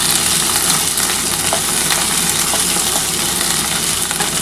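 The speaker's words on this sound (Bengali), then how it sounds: "আমি এবার কিন্তু আলুগুলো ভেজে নিচ্ছি" Potatoes fry in a pan for a ridge gourd and poppy seed dish, making a loud, dense sizzle with occasional light stirring clicks, close and continuous, with no voices.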